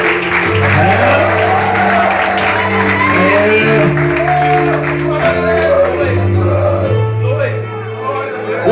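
A large crowd at a church youth congress applauds and cheers steadily for the whole stretch, with scattered shouts and whoops rising above the clapping and sustained musical tones droning underneath.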